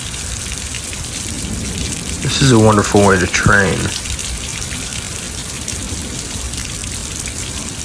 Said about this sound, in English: feeling the raindrops